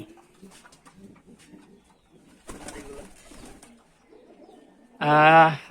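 Female pigeons are let out of a loft: soft scuffling, then a brief burst of flapping wings, and finally a loud, close coo at the end.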